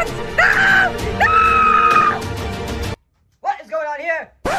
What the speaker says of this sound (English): What is all that screaming?